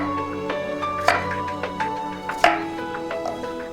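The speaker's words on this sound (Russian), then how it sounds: "Самое сложное здесь почистить и нарезать тыкву кубиками 2 на 2, 3 на 3." A knife chops a peeled pumpkin into small cubes on a board, a few sharp close taps spaced irregularly over a low steady background hum, with no talk.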